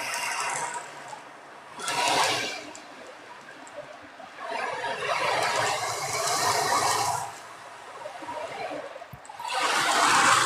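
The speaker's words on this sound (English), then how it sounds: "you just basically tilt it, so you can have it really loud waves" An ocean drum or similar wave instrument is tilted back and forth, making soft rushing swells of rolling beads that rise and fade in several slow surges, loud then gentle, in a quiet meditation room.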